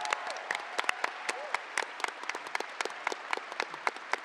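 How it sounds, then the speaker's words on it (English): An audience applauds with dense, sharp clapping that continues steadily, close and fairly loud. "let's have a round of applause for both our teams."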